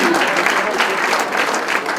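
An audience at a cocktail dinner applauds warmly, a loud, steady patter of many hands clapping close by, with a little crowd murmur underneath.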